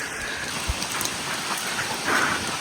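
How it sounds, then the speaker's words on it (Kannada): Steady rain on a foggy hill road near Bettada Bhairaveshwara temple during a Bangalore to Mangalore motorcycle ride, an even hiss with a few brief louder spatters. "ಮಳೆ"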